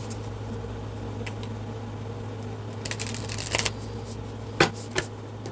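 Kali oracle cards being shuffled indoors: a few soft, quick riffling bursts near the end, set against a steady low electrical hum.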